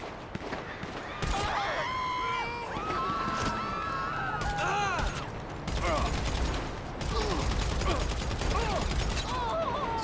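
Pistol fire in GTA 5 Online: repeated sharp shots in quick bursts with short gaps, mixed with mechanical clatter and other in-game sounds.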